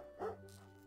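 A single short dog bark or yip from a dog in the video game Cyanide and Happiness Freakpocalypse, fairly quiet over a low game background hum.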